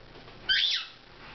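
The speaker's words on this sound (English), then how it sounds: "Oh, what's that pretty bird? Is that a pretty bird?" A pet bird, freshly showered, gives a single short squawking call, near and fairly loud, in an otherwise quiet room.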